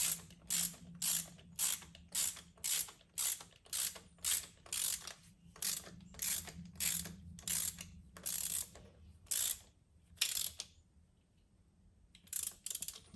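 A part of a Cobra air intake is screwed in on a Yamaha Bolt motorcycle, a steady run of close, crisp ratcheting clicks in quick bursts with brief pauses and no talking.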